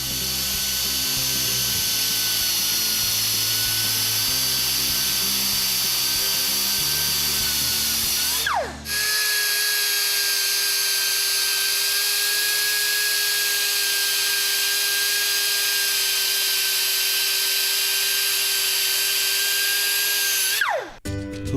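A brake lathe or tool applies a swirl-cut finish to a brake rotor, producing a steady whirring, high-pitched machine tone that runs continuously, with a brief pause midway and a drop at the end.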